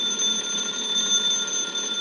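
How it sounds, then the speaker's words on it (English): A telephone bell in a 1950s radio drama rings continuously, a bright steady metallic trill with no pauses and no voices over it. "Bring the phone over to me, Jeff."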